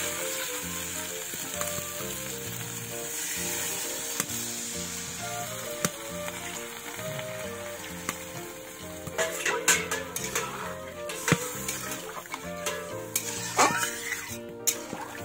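Spice paste for a black carp fish curry fries in a pan with a continuous sizzle, while a spoon scrapes and stirs against the metal, growing busier and louder toward the end.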